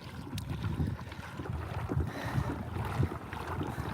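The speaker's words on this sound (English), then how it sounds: "Got about a 13-knot wind coming out of the north right now" Steady wind buffets a Hobie pedal kayak on open water off Nokomis Beach, Florida, on a roughly 13-knot north wind, a continuous low rushing roar with gusty swells and faint water movement, no talking.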